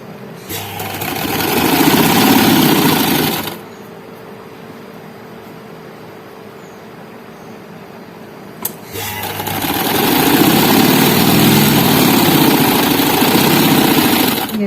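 A sewing machine stitches the side seam of a frock in two loud, steady runs of mechanical whirring, separated by a few seconds of near-quiet with a single faint click.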